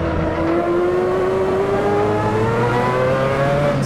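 Mazda 787B race car engine in Assetto Corsa, heard from inside the cockpit, revving steadily with a rising pitch and a loud, continuous drone laced with gearbox whine.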